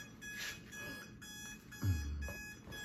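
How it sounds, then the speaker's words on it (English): An alarm clock rings continuously with a steady, tonal electronic beeping at moderate distance and fairly low level, with no talking. "And there's an alarm going off."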